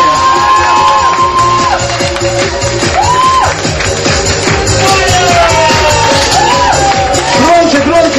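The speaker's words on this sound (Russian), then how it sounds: "Встретить именинницу Ольгу бурными аплодисментами" Party guests at a surprise birthday party cheer, whoop and shout loudly for the birthday woman, a dense continuous crowd din with a few high whistles cutting through.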